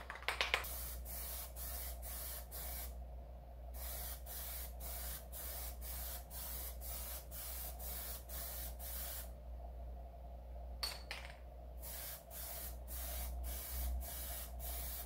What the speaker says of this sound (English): Let's go ahead and shake a can and apply this.